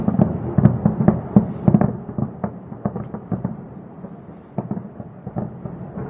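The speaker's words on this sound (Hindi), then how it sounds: "ये देखिए, बम के धमाके, आसमान में लगातार आवाजें।" Repeated deep booms and cracks of bomb explosions in a war, some close together then spaced out, rumbling at a distance with no talking.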